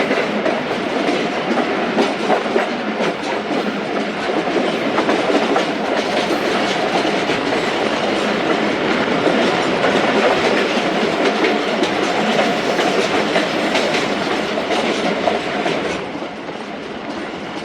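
The Zakariya Express passenger train runs along the track with a loud, steady rolling roar and rhythmic clickety-clack of wheels over rail joints, easing slightly near the end.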